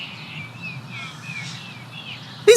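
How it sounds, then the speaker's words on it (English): Noisy birds chirp and call in a thin, fairly quiet outdoor soundscape, with several short high tweets over a soft background hiss before a sharp sound cuts in at the very end. "These birds are so noisy."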